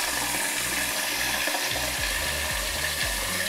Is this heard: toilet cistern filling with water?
yes